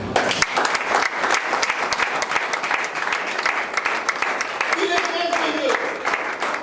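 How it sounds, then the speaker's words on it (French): A church congregation applauds and cheers in praise of the Lord with steady, dense clapping throughout. Voices shout over it, and a brief sung or whistled note rises near the end. "Est-ce que tu peux prendre 10 secondes et acclamer le Seigneur?"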